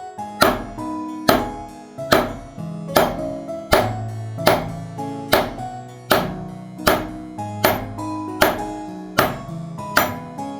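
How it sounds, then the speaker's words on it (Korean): A brass hammer strikes the punch of a disc cutter in an even rhythm: about a dozen sharp, ringing metallic blows, each decaying quickly, close and alone. "다음은 황동 망치를 사용하여 두 번째 펀칭을 합니다."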